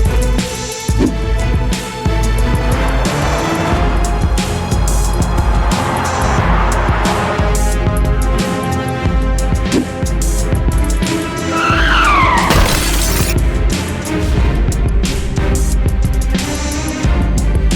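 Car crash on a road with tires skidding and squealing, a long loud stretch of screeching and impact noise with a bright burst partway through.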